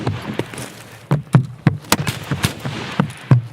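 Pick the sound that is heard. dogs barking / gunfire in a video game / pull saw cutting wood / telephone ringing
gunfire in a video game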